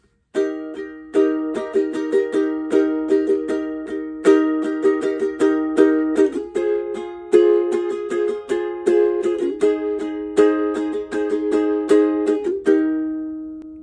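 A ukulele strums a bright chord progression alone, steady strokes changing chords every few seconds, close and clear, ending on a ringing chord.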